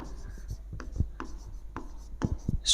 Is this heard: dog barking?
no